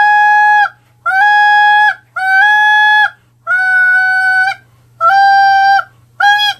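Triad Killer goose call blown with steady air and no buzz, giving a clean, honking horn-like tone in five or six sustained blasts separated by short gaps, loud and close, with no voices.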